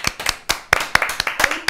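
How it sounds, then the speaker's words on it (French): A small crowd at an evening event claps for a performer, a handful of loud, close hand claps in an uneven, lively rhythm, with clear individual slaps standing out. "Applaudissements pour Geoffroy."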